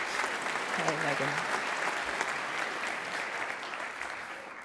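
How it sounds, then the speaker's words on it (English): An audience at a stage debate on the future of money breaks into steady, sustained applause that fills the room, with a voice briefly audible over the clapping early on. "definitely deserves that round of applause"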